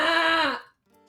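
A screaming goat in a Minecraft-style multiplayer survival game lets out one loud, harmonic, wavering scream for about half a second before it cuts off, leaving near silence.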